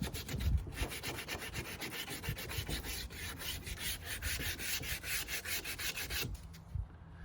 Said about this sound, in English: I'm gonna get my sandpaper in here. Just get off any loose debris.